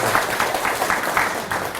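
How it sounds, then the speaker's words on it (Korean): Steady applause from a seated audience of CEOs at a motivational lecture, dense and continuous throughout, fairly loud and close, with no voices standing out. "자, 박수."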